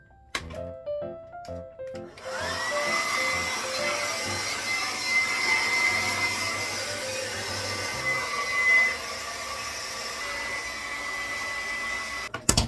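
Hair dryer fitted with a diffuser drying type 4 high porosity hair, switched on after a few clicks and running as a steady close whirring hum with slight fluctuations until it cuts off.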